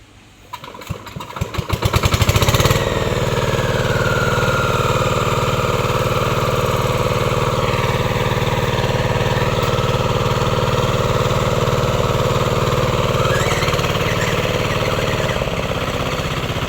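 Engine of a rice paddy field machine cranking and catching after a couple of seconds, then settling into a loud, steady idle that runs on unbroken to the end.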